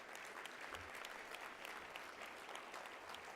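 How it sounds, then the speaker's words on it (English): Applause from the audience at a 2011 small business award ceremony as staff are honoured: steady, dense clapping from a large crowd that fills the whole stretch at an even, fairly quiet level. "I want a round of applause for my staff"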